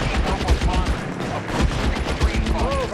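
Rapid, sustained gunfire from an enemy shooter in the L.A. Noire video game, dense bursts of shots rattling continuously under a talking voice.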